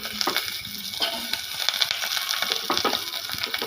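Onion pieces frying in a pan with curry leaves, a bright close sizzle broken by scraping and stirring clatter, no voices.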